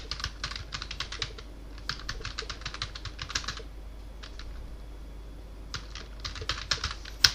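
Fast typing on a computer keyboard, entering text into an Excel form: rapid clattering bursts of keystrokes broken by a longer pause, close and moderately quiet, with no speech.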